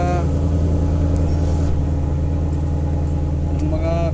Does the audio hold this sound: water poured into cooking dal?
no